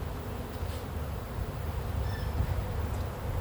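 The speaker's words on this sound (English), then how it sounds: "I'm just gonna get all these bees out of here and get them into this hive." Honey bees buzz in a low, steady hum while being moved into a hive, a continuous close drone with no voices.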